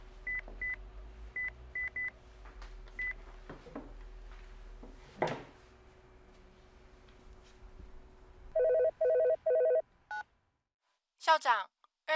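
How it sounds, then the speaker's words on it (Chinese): A telephone rings with an incoming call in a school principal's office, sounding as short repeated electronic trills in two quick bursts after a stretch of quieter background beeps and room sounds, with a few sharp chirps at the end. "校长，二线刘松恒立委来电"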